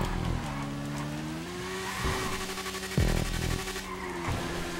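A Hakuchou motorcycle engine revs hard through a GTA 5 drag race over a bridge, its loud, close drone rising in pitch through each gear, broken by sharp shift dips and surging again.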